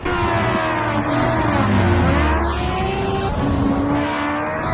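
Superbike engine from the VRider SBK VR motorcycle racing game, a continuous loud high-revving whine with rising and falling pitch sweeps as it accelerates and shifts, with faint squeals, no talking.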